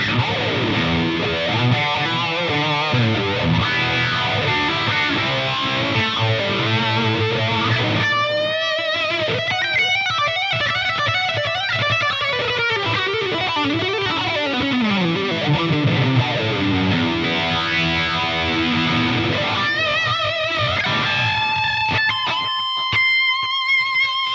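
Distorted electric guitar through a TONEX amp model swirls through a sweeping phaser with trailing tape delay echoes, playing sustained notes and bends, loud and continuous without speech.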